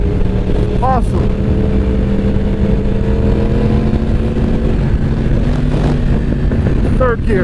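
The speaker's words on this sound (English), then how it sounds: "Third gear, and it makes a beautiful popping sound, a blipping sound." 2015 Yamaha R1M sportbike engine running near and loud while downshifting with its clutchless auto blipper, the note dropping in steps with sharp blips and exhaust pops, a voice talking over it at times.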